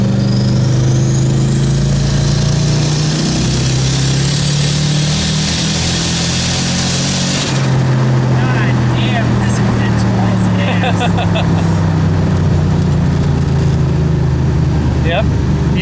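A Ford Fairmont accelerates hard from a stop, its engine note climbing steadily in pitch as it gathers speed, loud and continuous throughout with rushing broadband noise over the first half.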